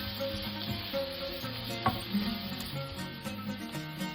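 Garlic frying in a pan for a chakchouka, a steady close sizzle with faint crackle running throughout and a brief clink partway through, no voices.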